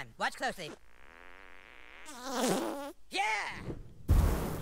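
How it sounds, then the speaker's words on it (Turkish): A cartoonish fart blast from a magic attack in the South Park: The Stick of Truth video game, a long buzzy, wavering tone between bursts of game character speech, ending in a sharp noisy burst. "Osurunu fırlattı derim."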